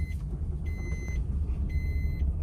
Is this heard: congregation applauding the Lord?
no